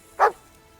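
A single short dog bark in the medieval game Kingdom Come Deliverance 2, close and clear against a quiet background, lasting a fraction of a second.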